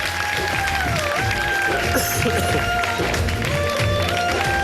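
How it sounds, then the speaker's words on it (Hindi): A studio audience on a live Ramadan game show applauds a contestant winning a motorbike, steady clapping filling the room with music and a voice running underneath. "आइए भरपूर तालियों में"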